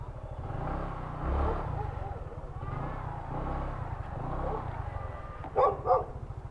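Large dogs bark at a visitor, several sharp woofs over a continuous low engine rumble from a nearby vehicle, with a couple of louder barks near the end.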